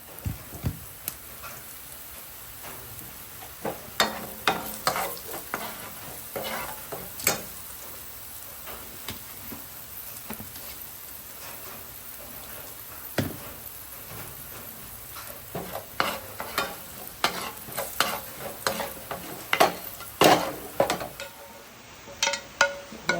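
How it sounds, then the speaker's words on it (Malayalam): Sliced shallots frying in hot oil for tempering a prawn and jackfruit seed curry: a steady, fine sizzle with scattered pops and crackles, fairly quiet and continuous, with no talking. "അപ്പം നമ്മൾ ഇതിലേക്ക് കുറച്ച് ഉള്ളി അരിഞ്ഞിട്ടേക്കാണ്"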